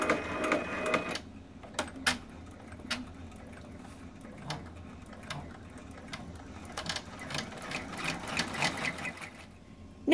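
An embroidery machine running the placement stitch for an in-the-hoop bookmark, a quiet steady mechanical hum with rapid needle ticking and intermittent clicks and thumps throughout.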